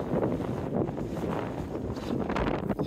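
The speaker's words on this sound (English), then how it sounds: "the gusts have actually increased" Strong gusts batter a Nortent Vern 1 tent, a loud unbroken wind roar with heavy microphone buffeting that swells and dips without pause, no one speaking.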